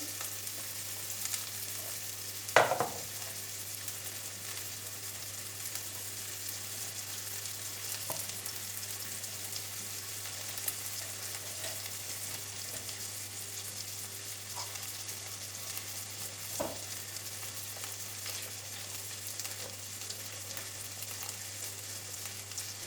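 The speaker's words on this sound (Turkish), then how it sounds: "Şöyle yavaş yavaş pişiriyorum soğanları" Onions cooking slowly in olive oil over low heat for a leek dish give a steady, soft, continuous sizzle, with a few faint clinks and taps scattered through.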